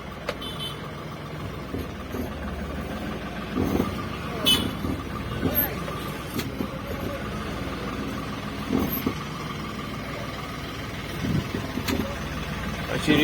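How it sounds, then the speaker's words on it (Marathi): A car reverses into a parking spot at home, its engine running low and steady with faint beeps now and then, while a person talks over it. "घेऊया रिवर्स आणि लावूया गाडी."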